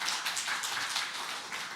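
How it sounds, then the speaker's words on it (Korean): Congregation clapping at an afternoon church worship service, a soft, fairly distant patter of many hands that holds steady for a couple of seconds without speech. "우리 대표님께 박수 감사합니다"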